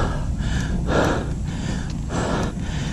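A cyclist pants heavily while grinding up a steep road climb of Mt Bulalo in Calauan, Laguna, with gradients reaching 25 percent: rapid, loud, close breaths in a steady rhythm with sharper gasps, and no talking.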